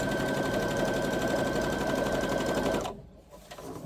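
A sewing machine stitches waterproof backpack fabric in a steady, close, continuous whir, then stops abruptly near the end, leaving quiet room tone.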